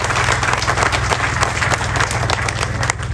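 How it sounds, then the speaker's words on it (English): Dense, loud applause from a large audience at a gathering, continuous sustained clapping with no pauses, filling the whole space. "So I want us to clap for God"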